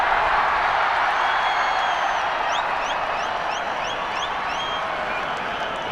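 Cricket stadium crowd at a 2005 India versus Sri Lanka one-day international, a steady broad wash of cheering and applause filling the whole clip at even loudness, with faint whistles rising above it partway through.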